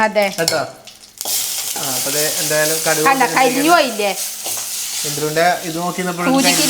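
Mustard seeds and curry leaves crackle and sizzle in hot oil in a Kerala home kitchen, a bright steady frying hiss running under a voice talking throughout.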